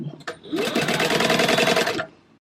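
A sewing machine base stitches panels onto Peltex with one short, fast burst of close, rhythmic mechanical whirring, preceded by a brief click and fading quickly at the end.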